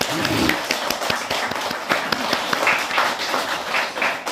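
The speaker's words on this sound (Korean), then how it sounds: "감사의 큰 합장을 올리시고 박수도 한번 크게 쳐주시기 바랍니다" Applause from an audience at a Buddhist temple Teachers' Day dharma talk, honoring the monks: a dense, steady patter of many hands clapping close by, with a few sharper individual claps standing out.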